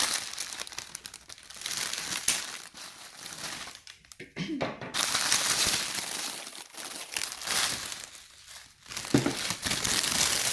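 Wrapping paper on a gift package crinkles and rustles almost continuously as it is torn open, with brief pauses and occasional voices in between.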